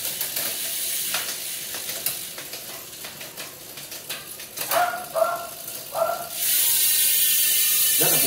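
Merida road racing bicycle with two chainrings and an eight-speed cassette on 700 bearing wheels, shifting gears with a few crisp mechanical clunks, then a continuous buzzing freewheel ratchet as the wheel spins free, no talk.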